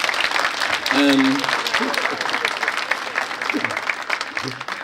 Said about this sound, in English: let's give a round of applause for Robert Bobb